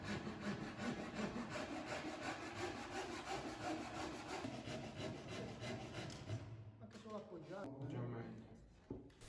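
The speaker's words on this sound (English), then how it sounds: "He is trimming the edge to make it smooth." A carpenter trims the edge of a handmade wooden bookshelf in a workshop with rhythmic back-and-forth sawing or rasping strokes, steady and close, before it breaks into a few scattered knocks and scrapes as people talk.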